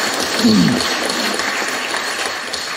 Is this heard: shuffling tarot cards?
no